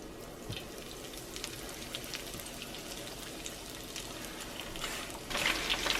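A chicken tender frying in a cast iron skillet gives off a steady, fine crackling sizzle with scattered pops, and it swells a little louder near the end.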